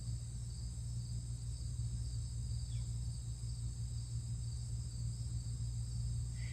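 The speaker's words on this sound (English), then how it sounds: "I don't know if you can hear this bee that's buzzing around me." A bee buzzing around outdoors close by, a steady low drone that holds throughout with no talking.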